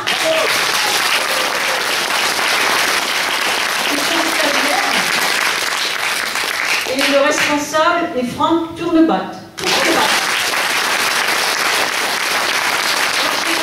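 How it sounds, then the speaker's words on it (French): Steady applause from a theatre audience for a performing troupe fills the clip, briefly giving way to someone speaking over a microphone before the clapping resumes. "Un tonnerre d'applaudissements à toute cette troupe"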